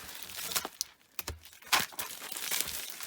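Packaging around a cheap box of capacitors being cut into: close, scattered crinkles and short tearing rustles come in uneven bursts with brief pauses between them.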